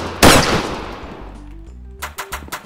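A loud single gunshot from a gun in a Minecraft Arma 3 mod, with a long decaying tail, followed by a string of sharper rapid shots near the end.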